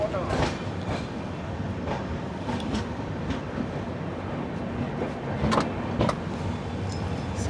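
Garib Rath Express train pulling into Banaswadi station, heard from inside the coach as a steady rumble with periodic wheel clacks over rail joints, fairly loud and continuous.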